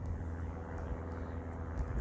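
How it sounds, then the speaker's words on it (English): A distant airplane drones as a steady low engine rumble overhead, faint and continuous, with no talking during the stretch. "There's a plane up there somewhere."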